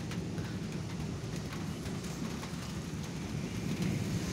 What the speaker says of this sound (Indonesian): Ini sedang mengalami hujan pemirsa